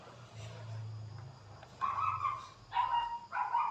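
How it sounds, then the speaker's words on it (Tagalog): A dog gives three short, sharp barks in quick succession at a moderate distance, following a stretch of low background rumble. "Maingay na naman ang aming aso."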